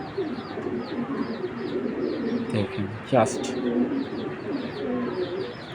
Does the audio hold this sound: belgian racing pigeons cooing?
yes